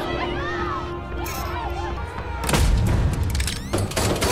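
Gunfire in a Walking Dead: World Beyond episode scene, a burst of loud shots and impacts erupting after a stretch of dialogue and continuing under voices, with a second cluster near the end.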